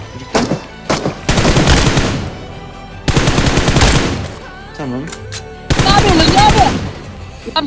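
Automatic gunfire from a bot in PUBG Mobile, loud close bursts of rapid shots in three long volleys with short gaps, with a brief voice between them.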